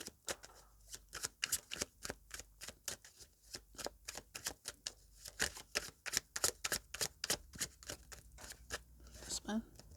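Tarot cards being shuffled in rapid, crisp riffles and snaps, a dense run of sharp papery clicks over about ten seconds, close and fairly quiet, with faint talk in the background.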